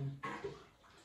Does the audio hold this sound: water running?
yes